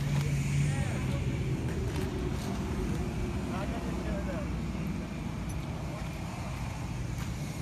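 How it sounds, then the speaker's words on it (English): A car with a Magnaflow exhaust revs at an outdoor car meet, its steady engine roar mixed with wind noise while people talk over it. "Can we get a little rev?"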